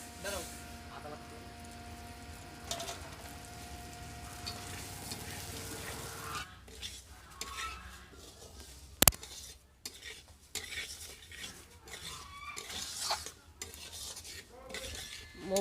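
Mung dal is dry-fried in a pan with slow stirring, bringing a soft sizzle and scraping, a sharp clink midway and intermittent spatula strokes, with talking partly over it.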